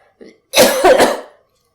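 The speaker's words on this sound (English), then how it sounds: "They're making me cough." Two harsh, close coughs in quick succession after a brief throat noise, then silence.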